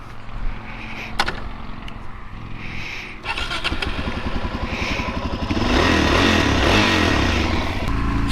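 A Suzuki DRZ 400SM single-cylinder motorcycle engine pulls away and builds steadily, loud and close, with the engine note rising and thickening toward the end as the bike gathers speed on its first ride.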